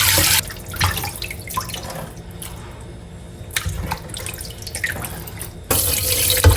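Tap water runs into a sink as pork belly is rinsed under it, a close, splashing flow that dips and surges unevenly, then gushes more strongly toward the end.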